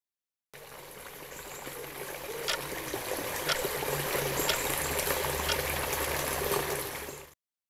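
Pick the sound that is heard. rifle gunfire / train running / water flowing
water flowing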